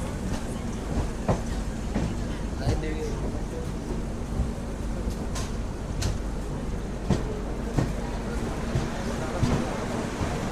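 Sabari SF Express pulls in at platform 2 of Ernakulam Town station, a steady rumble and rattle of carriages filling the crowded platform, with voices chattering throughout.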